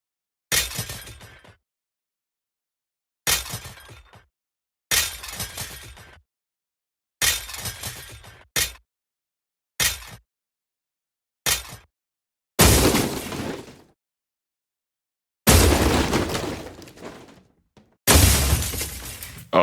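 Synthesized debris breaking sounds built with granular synthesis in Phase Plant for game audio: a series of separate loud shattering, crumbling crashes with gaps of silence between, the later ones longer and denser.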